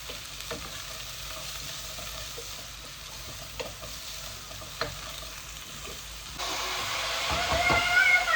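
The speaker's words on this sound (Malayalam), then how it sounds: "അതിലേക്ക് ഗീ ഇടാം, സ്പൈസസ് ഇടാം." Spices fry in hot ghee for ghee rice, giving a soft, steady sizzle that swells louder and brighter toward the end, with light stirring scrapes mixed in.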